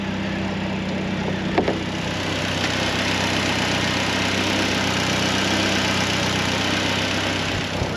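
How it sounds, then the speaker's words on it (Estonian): A warmed-up engine on a dyno idles evenly, a low continuous hum with a faint mechanical rumble and no voices, holding the same level throughout. "ma praegu kuulan seda mootorit ennast, vaata see mootor ise käib nagu vaikselt"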